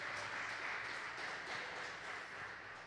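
A church congregation claps during a worship service. The applause is steady and soft, sounding somewhat distant, with no voices over it.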